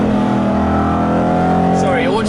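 An Aston Martin GT8 accelerating, a loud close engine roar whose pitch climbs steadily, with a voice talking over it.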